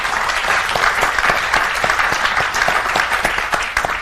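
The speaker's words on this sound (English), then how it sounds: "a round of applause to our new panelists who have just joined us" A conference audience at CogX 2019 applauds new panelists: steady, fairly close clapping from many hands, sustained evenly for about four seconds with individual claps popping through.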